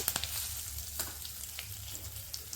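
Curry leaves dropped into a hot tempering of oil with mustard seeds and cumin crackle and sizzle softly, with irregular sharp pops over a low steady fry, nearby and without speech.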